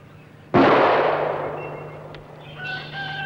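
A single loud rifle shot goes off close by with a sharp onset and a long, fading reverberant tail, and a faint bird call follows near the end.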